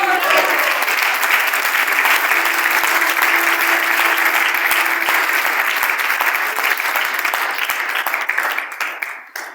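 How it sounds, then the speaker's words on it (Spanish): A church congregation applauds loudly and continuously, a dense wash of many hands clapping at close range before it fades out at the end. "Denle un aplauso al Rey."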